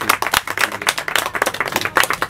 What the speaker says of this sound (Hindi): ज़्यादा से ज़्यादा एक बार ताली बजाइए आप